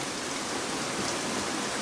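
Heavy rain pours down in a dense, continuous hiss, loud and steady throughout with no break or other sound standing out.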